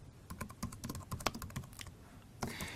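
Rapid keystrokes on a computer keyboard while entering network switch port configuration commands, a steady run of close, crisp clicks ending in a brief louder flurry.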